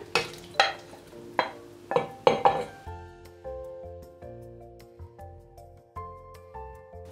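Lemon juice and okra going into a pot of meat and chickpeas: several sharp clattering drops and spoon scrapes in the first few seconds, then a quieter steady simmer with soft tonal ringing, no talking.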